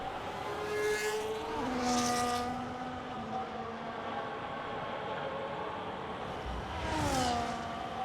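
An F1 race car in the F1 25 video game laps the Austria circuit, its high-pitched engine whine climbing and dropping through gear shifts, steady and moderately faint, with a couple of sharp rising revs.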